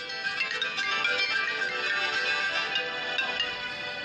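A phone ringtone plays at a steady, moderate level, a sustained bright electronic melody repeating throughout without any talking.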